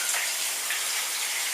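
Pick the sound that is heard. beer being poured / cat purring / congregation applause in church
beer being poured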